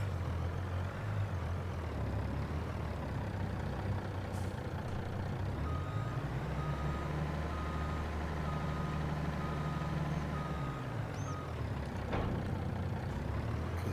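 A milk delivery truck on a winter farm runs steadily with a constant engine drone, a reversing beeper and a faint air-brake hiss, the engine note rising and falling midway with no one speaking.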